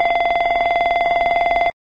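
Embraer E190/195 cockpit aural warning bell, used for engine or APU fire or cargo smoke: a loud, rapid continuous ringing with a fast even tremolo lasting nearly two seconds, then stopping abruptly, with no talk over it.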